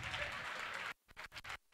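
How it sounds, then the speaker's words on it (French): Audience applause during a gendarmerie training session in Burkina Faso: a dense burst of clapping that stops abruptly partway through, followed by a few scattered, uneven claps and short patters. "Et applaudissez."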